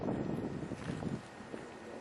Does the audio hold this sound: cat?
no